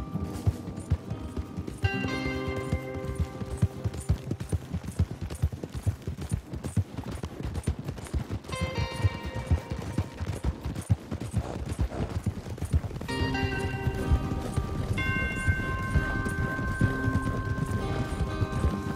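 Horse hooves clop in a galloping rhythm in Red Dead Redemption 2 over the game soundtrack with sustained music tones, continuous and fairly loud throughout.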